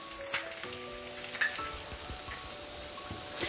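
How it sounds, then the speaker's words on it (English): Canned tuna fritters frying in oil, a soft continuous sizzle with scattered crackles and pops, fairly quiet and close, with faint clinks in the background. "So we're going to fry these up until golden brown on the other side"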